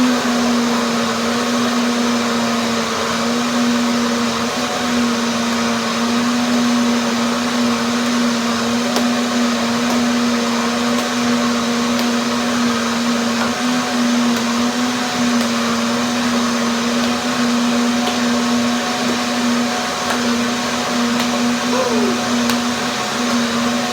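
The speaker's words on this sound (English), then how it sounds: "So now, second blending." A blender runs steadily, blending carrots, walnuts and about a liter of water into walnut carrot milk, its motor giving a loud, continuous whirr with no break.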